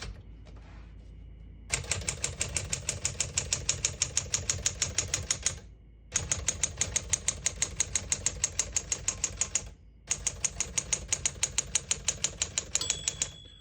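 A 1964 Smith-Corona Sterling portable manual typewriter clacking in rapid, even bursts of keystrokes, three long runs separated by short pauses, close and crisp, with no speech.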